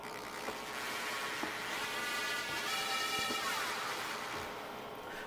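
A processed sub bass synth with a wavering, theremin-like spooky tone glides through sliding pitches, steady and fairly quiet throughout, with a few faint clicks underneath.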